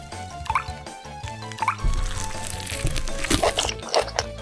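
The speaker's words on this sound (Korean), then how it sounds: "특히 흘러내리는 육즙" Cartoon sound effects of juices dripping from grilled beef on the bone in an animated eating scene. Wet drips, squishes and crunchy bites repeat close up over a steady tonal background.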